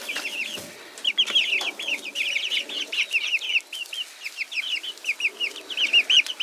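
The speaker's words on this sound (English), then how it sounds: "I think that one and maybe that black one there are roosters." A flock of chickens with a couple of roosters clucks continuously at a ranch, many overlapping close-up clucks and chirpy calls in a busy, steady chorus with no talking.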